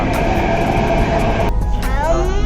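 Loud, steady rumble of a Mumbai metro train in motion, with a dense mechanical roar that shifts midway into a smoother whine.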